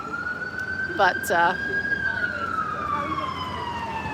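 Emergency vehicle siren in a city street, a loud steady wailing tone that slowly rises then drifts downward, with a brief burst of speech partway through over constant traffic noise.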